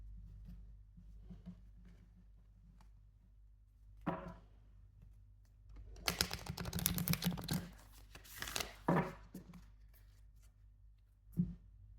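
Soft papery riffling and flicking of tarot cards being shuffled slowly, a quiet tap, then a longer burst of shuffling followed by a few isolated flicks.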